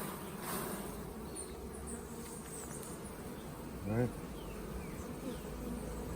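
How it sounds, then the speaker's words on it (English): Honey bees buzz softly in a low, constant hum around a hive, with a brief louder drone passing close by; a voice speaks a single word. "so I'm going to have to shake down the bees."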